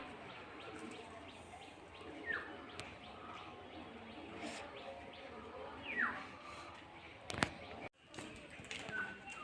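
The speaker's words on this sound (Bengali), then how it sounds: "পায়রা একের পর এক কিন্তু ল্যান্ড করছে" A flock of pigeons landing one after another, with soft cooing and chirps over a quiet outdoor background, and a few sharp flutters and claps of wings, one louder burst near the end.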